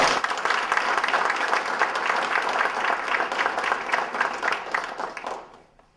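Audience applause welcoming a speaker named Mary to the podium at a hospice organization event, steady dense clapping from a crowd for about five seconds before fading out.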